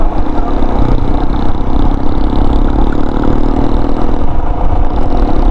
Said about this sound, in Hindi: बाइक का क्या आवाज निकाल रहा है भाई, ऐसा लग रहा है बाइक अभी खोल के गिर जाएगा